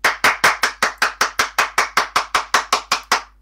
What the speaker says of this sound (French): Auto-applaudis vu que personne ne le fait.